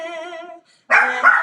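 A dog barks loudly and close by in a house, its sharp bark cutting in after a man's sung Hebrew prayer at a Shabbat candle-lighting service.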